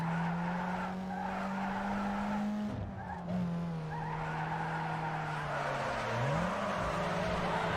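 Car tires skid and squeal in long sustained screeches while drifting through a corner in Need for Speed Underground 2, the engine droning steadily underneath, loud and close throughout.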